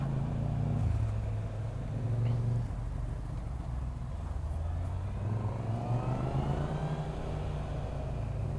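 A Honda CB650R four-cylinder motorcycle pulls away with a smooth, steady engine hum that rises gently in pitch as it gathers speed, heard continuously and close up without talk.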